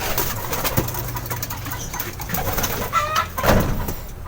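Pigeons coo in a loft or cage, a steady low murmuring with repeated soft calls and a few louder bursts, rustling and faint movement underneath, no talking.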